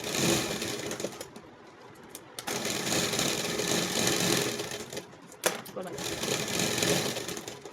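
A sewing machine runs zigzag stitches on a plastic shirt in several loud bursts separated by short pauses and clicks, close by, with someone speaking over part of it.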